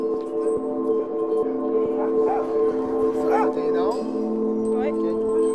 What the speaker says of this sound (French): Au départ, les chiens, ils veulent sortir, ils veulent courir. C'est l'excitation, c'est ouais, ça jappe, ça jappe, ça jappe, tu t'entends pas parler.